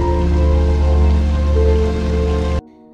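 Heavy rain pours steadily in a forest setting, a loud dense hiss of drops on surfaces that continues unbroken, then cuts off abruptly near the end.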